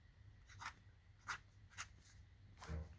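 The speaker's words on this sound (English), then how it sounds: "Let's see if I can get this to write something." A fine-nibbed vintage flex fountain pen scratches across paper in four short, separate strokes, close and quiet, with a faint low rumble in the room behind.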